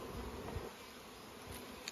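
Honey bees in a beekeeper's hive with the honey super open, a faint, steady swarming buzz holding throughout with no talk.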